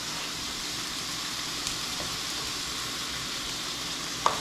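Chicken fajita burgers sizzle in a Le Creuset pan with a steady, fairly quiet frying hiss throughout, broken by a couple of small clicks and taps near the end, with no talk.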